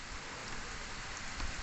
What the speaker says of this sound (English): at the moment it's raining